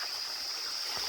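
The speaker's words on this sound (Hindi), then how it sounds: "ये देखो कितना मोटा पानी आ रहा है धारे में।" Water gushes from a mountain spring spout in a steady, faint rushing flow, continuous and alone, with a thin hiss running underneath.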